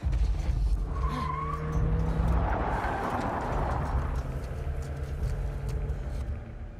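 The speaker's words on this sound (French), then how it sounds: "On entend la voiture, mais on ne sait pas par où ils sont." Car driving nearby in The Last of Us Part II, a broad engine rumble with tyre noise that swells in the middle and holds steady, heard alone without talk.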